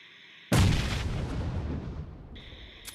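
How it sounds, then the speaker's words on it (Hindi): A single heavy grenade blast erupts in a shooter video game match with a sudden booming burst and a long rumbling decay, while the game's tonal hum sits faintly before and after. "तो वहाँ पे मैं एक नेड करता हूँ।"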